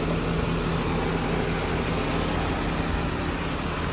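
A 2006 Suzuki Katana GX motorcycle in healthy running condition idles at a steady, even pace, loud and close, with no voices.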